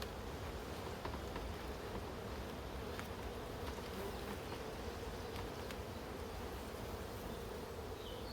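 A dense, steady hum of many calm honeybees buzzing together in an open National beehive, soft and continuous, with occasional individual bees passing closer.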